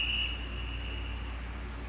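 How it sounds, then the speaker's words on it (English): A workout interval timer sounds a short high beep, then a faint tone lingers under a steady background hum. "you'll hear the timer go off"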